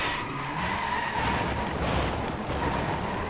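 Mini Cooper John Cooper Works in the Drive Club video game skidding after a hard handbrake pull, a loud continuous tire screech and engine roar lasting throughout, with no talking.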